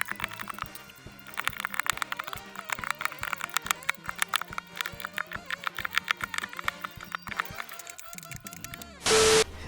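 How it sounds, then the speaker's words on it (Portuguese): Clicky Blue mechanical keyboard switches being typed on in quick, dense bursts, each keystroke a crisp near click, ending in a short loud burst of noise. "Pros curiosos, esse é o sonzinho do Switch Blue."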